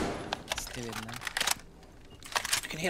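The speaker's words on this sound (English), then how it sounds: "You can hear him shuffling." Enemy footsteps shuffle inside a closet during a Rainbow Six Siege round, heard as scattered soft scuffs and clicks with gameplay noise and a voice talking over them.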